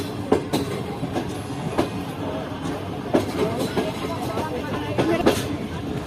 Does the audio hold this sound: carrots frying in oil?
no